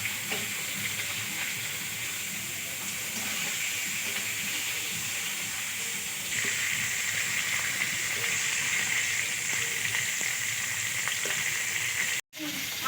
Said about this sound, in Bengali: মাছের কাঁটা এটা হালকা একটু ভেজে নেবো